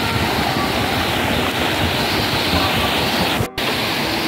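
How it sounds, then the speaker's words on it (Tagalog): Big sea waves churned by floodwater roar continuously, a loud, close, broadband rush with no letup apart from a brief dropout near the end, and no voices over it. "Ang laki ng alon guys."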